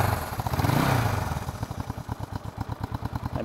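A 1973 Honda CB450 twin with dual overhead cams idles after a cold start, its nearby exhaust settling from a rising rev into a steady, even low putter of regular pulses, with no talk.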